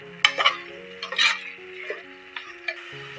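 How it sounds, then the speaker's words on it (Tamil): Mutton biryani masala stirred in a pot, a few scraping, clinking strokes of a spoon against metal, close and fairly quiet, with a faint steady hiss beneath. "சேர்த்துட்டு ஒரு கிளறி விட்டுக்கோங்க"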